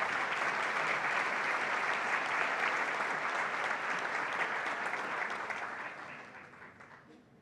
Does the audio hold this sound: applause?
yes